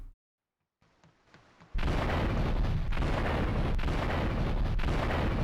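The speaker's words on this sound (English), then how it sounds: "How in the world did you not get blown up in an explosion?" A loud, sustained explosion roars in the video game Grand Theft Auto III, a broad rumbling blast that erupts after a few faint clicks and keeps thundering without pause.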